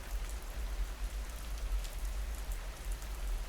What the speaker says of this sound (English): the steady, hypnotic patter of rain on your hood